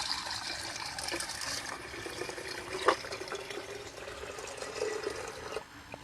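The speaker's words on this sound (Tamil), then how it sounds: "நம்ம இப்போ இதில் தண்ணி ஊற்றிடலாம்" Water poured into a plant pot, a soft continuous splashing trickle heard fairly faint and close with no speech.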